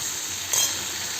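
Raw mango with turmeric and salt is stirred in a hot pan, giving a steady sizzle and a single brief scrape of the spoon, close and alone.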